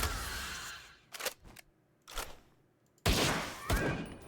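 Gunfire in the video game Palworld, heard as three separate bursts of rapid shots spaced about a second apart, with the last burst longest and loudest.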